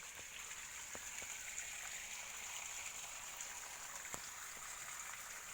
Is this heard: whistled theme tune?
no